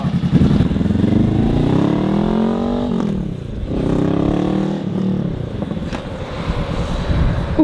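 A motorcycle revs up through rising engine pitches, easing off and accelerating again in several sweeps as it is ridden nearby, loud and unaccompanied by talk.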